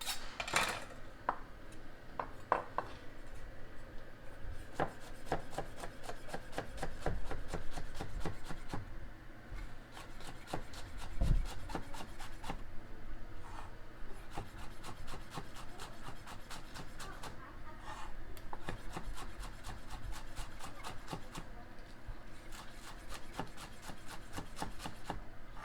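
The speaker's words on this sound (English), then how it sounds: "I'm just gonna slice it up real fine." A knife slices scallion finely on a cutting board, giving a run of quick, close, fairly quiet chopping taps and scrapes that come in irregular bursts for the whole stretch, with no voices over it.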